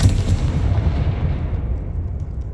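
The Confringo explosion spell in the video game Hogwarts Legacy goes off as a deep, loud boom that rumbles and fades away over a couple of seconds, with no speech.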